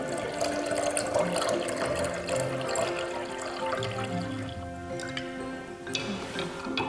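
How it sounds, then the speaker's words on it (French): Water being mixed with table salt in a container, giving a continuous close swirling and sloshing of liquid with a few small knocks and drips near the end. "on va mélanger 1 litre d'eau avec 35 g de sel de cuisine"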